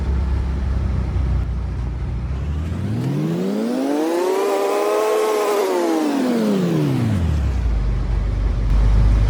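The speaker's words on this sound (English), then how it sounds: "this is a utility vehicle." A side-by-side utility vehicle on a Florida dirt track drives past: its engine note climbs as it approaches, peaks loudly with strong harmonics, then drops as it pulls away over a constant background rumble.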